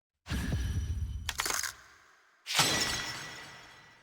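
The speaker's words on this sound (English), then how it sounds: "I heard that glass shatter sound effect." Glass shatters twice in the Blue Archive video game: a crash with scattering fragments, a brief gap, then a second bright burst that rings out and decays, with no talk.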